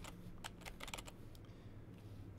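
Quick bursts of keystrokes on a computer keyboard while typing short text entries into a database form, clustered clicks in the first second and fainter taps later, close and fairly quiet with no talking.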